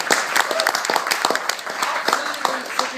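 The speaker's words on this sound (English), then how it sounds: "Give him a round of applause." A wedding crowd breaks into lively applause for the best mate, with dense, close hand claps and a few cheers mixed in, sustained for the whole moment.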